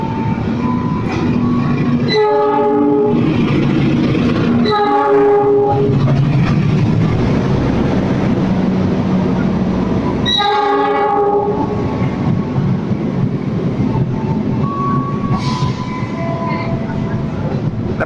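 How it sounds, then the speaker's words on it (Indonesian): The long Kertajaya passenger train rumbles steadily past on track 6 at Jatinegara station, Jakarta, at close range, with several loud horn blasts sounding over the continuous rolling noise of the cars. "Yang melintas langsung jalur 6 dari arah barat kereta api Kertajaya"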